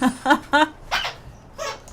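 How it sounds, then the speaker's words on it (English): A young dog gives a series of short, high squeaks and whimpers close by, in quick bursts of three, then two more after a pause. "Oh, squeak. That will be the dog."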